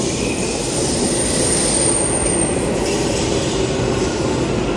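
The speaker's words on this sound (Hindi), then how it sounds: "आ गया मेट्रो" A metro train pulls into a station platform, its steady loud rumble of rolling wheels and rail noise filling the scene with a faint high squeal, no one speaking.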